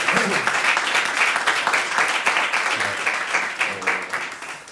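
A church congregation applauds continuously, a dense wash of many hands clapping at once, with a few voices mixed in underneath.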